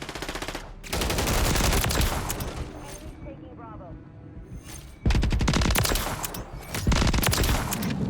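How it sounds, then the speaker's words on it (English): Rapid bursts of automatic fire from the SVA 545 rifle in Call of Duty MW3, loud and close, in several long volleys separated by a short lull in which a voice speaks. "Once you hit your shots, like the time to kill is insane with this gun."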